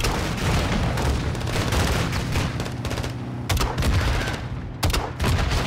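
Light machine gun firing in Modern Warfare 3 combat, loud dense bursts of rapid shots with brief pauses and booming hits, close and continuous over several seconds.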